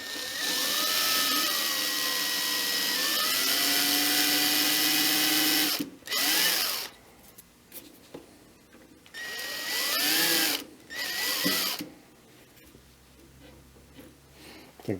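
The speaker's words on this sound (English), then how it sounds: "Now we're going to drill out the rest of the button." Small drill boring out the remains of a plastic button shaft on a Realistic equalizer, a steady high whine for about six seconds, then shorter bursts with pauses between them.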